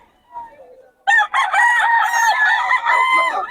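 A gamefowl rooster of the Sweater bloodline crows loudly and close by in one long, sustained call after a brief faint cluck, with no talk over it.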